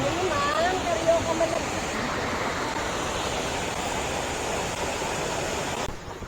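Rushing water pours steadily at Wawa Dam, a loud broadband roar of falling water that fills the scene throughout, with a brief voice faintly audible near the start.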